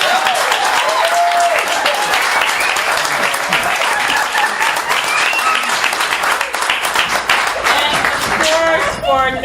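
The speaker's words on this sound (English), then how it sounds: "Lovely round of applause for the judges." Audience applause for the judges at a storytelling slam, a loud, sustained roar of many hands clapping throughout, with scattered cheers and whoops rising over the crowd.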